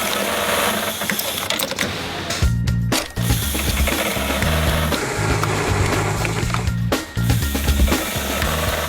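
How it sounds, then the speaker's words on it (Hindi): An automatic industrial sewing machine stitches belt loops onto denim jeans in a factory, a steady mechanical whir with rapid needle chatter and low motor hum, broken by two brief pauses as the work shifts. "और एक मशीन ऑटोमेटिकली बेल्ट लगाने के लिए लूप सिल देती है।"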